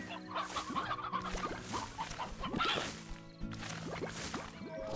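Clucking chickens in the game Slime Rancher, several birds calling over a busy mix of sharp whacks and other game sounds, steady and moderately loud throughout.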